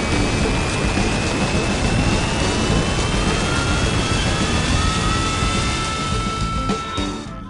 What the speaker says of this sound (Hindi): एक बड़ा हवाई जहाज धीरे धीरे गति पकड़ता है